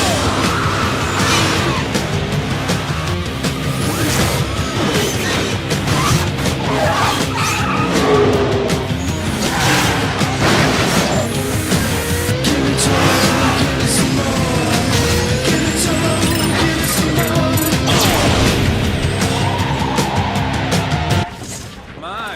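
Racing cars skid and squeal through a Jak X video game cutscene, with repeated tire screeches, engine roars and crash hits over a busy soundtrack, and voices talking throughout.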